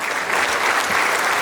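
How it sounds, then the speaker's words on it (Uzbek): A concert hall audience gives a burst of sustained, dense clapping for the president during a celebratory evening marking a singer's 45 years of work. The applause is loud and continuous, with no speech over it. "bitta qarsak chopaylik"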